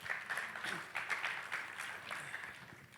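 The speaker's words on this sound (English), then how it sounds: "please give him a big round of applause" Audience applause at a fireside chat, a faint, distant patter of clapping hands that rises and falls in waves, with a voice mixed in.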